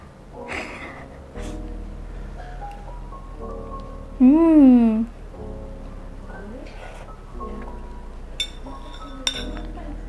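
Light cutlery clinks on a plate during a spaghetti meal, scattered sparse taps over a quiet room, with brief voices and a loud sung or hummed phrase partway through.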